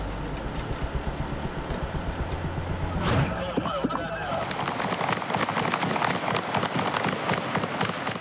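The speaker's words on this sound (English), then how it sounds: "And also this shooting, during which the police shot down two men." Gunshots ring out during a Miami police shooting in which officers shoot two men: a sharp burst of cracks stands out against steady street and engine noise, with voices talking throughout.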